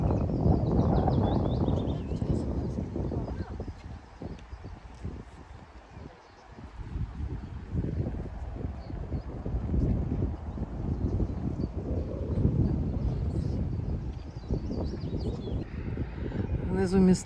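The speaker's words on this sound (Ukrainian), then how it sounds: "Вітер тут." Wind gusts buffeting the microphone with a low, rumbling roar near Carpathian mountain waterfalls, continuous throughout and heard under a person speaking.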